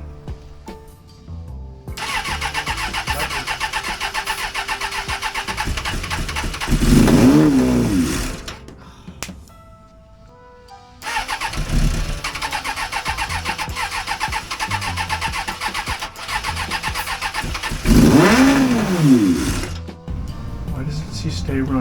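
Suzuki Bandit 600 motorcycle engine cranking and firing twice, each time settling into a loud, buzzing idle that runs on for several seconds, with brief quiet gaps between.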